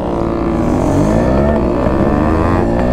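A Yamaha RX135 two-stroke motorcycle runs loud and close on a ride, its engine note rising and wavering steadily throughout with no speech over it.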